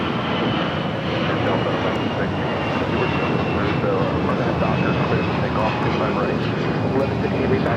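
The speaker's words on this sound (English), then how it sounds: "That was Delta Airlines 2056 taking off to Kansas City on an A320" A Delta Airlines A320 jet takes off at LAX, a broad, steady roar of jet engines that stays loud and continuous, with a voice talking faintly over it.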